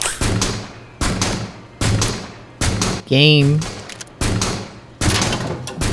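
Video game gunfire in Starfield: loud bursts of shots in repeated volleys, with a character voice speaking in between.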